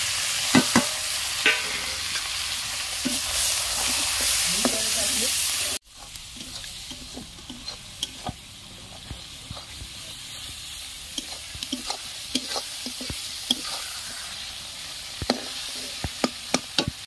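Onions fry in a pan while being stirred in an Odia village kitchen, loud sizzling at first that drops suddenly to a quieter crackle with scattered clicks of the stirring utensil.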